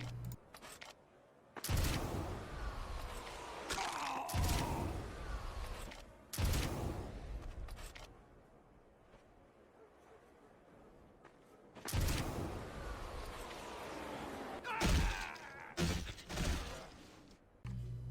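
Rocket jumps in Team Fortress 2 send out a series of heavy, booming rocket blasts at irregular intervals, each one a loud burst that trails off into quieter whooshing movement.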